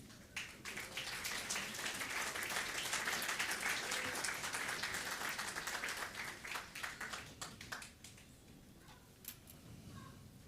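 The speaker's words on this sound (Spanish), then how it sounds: "Fuerte los aplausos." A church congregation at a New Year's service claps, dense applause that builds, holds steady, then breaks into scattered individual claps and dies away, fairly faint in the room.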